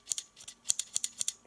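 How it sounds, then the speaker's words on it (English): Scissors on a SOG PowerLock multitool opened and closed repeatedly, giving a string of about ten crisp, close metallic snips in quick pairs, alone with no talk. "And that's the scissors."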